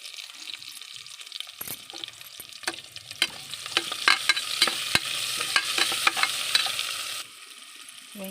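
Chopped onions hit hot ghee in a pan with cashews, ginger and garlic for coconut-milk ghee rice. They sizzle steadily and are stirred, with repeated spoon scrapes and clinks up close.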